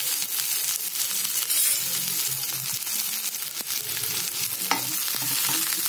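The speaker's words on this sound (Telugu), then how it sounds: "అందులోనే పచ్చిమిర్చి కూడా వేస్తే ఉల్లిగడ్డతో పాటు పచ్చిమిర్చి కూడా వేగుతాయి" Chopped onions and green chillies fry in an oiled pan with a steady, close, loud sizzle, broken by a few light clinks and stirring scrapes.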